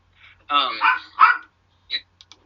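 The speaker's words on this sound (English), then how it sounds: "Sorry, the dog's barking." A dog barks a few times nearby, sharp yips and short barks spaced out over a couple of seconds, with quiet gaps between.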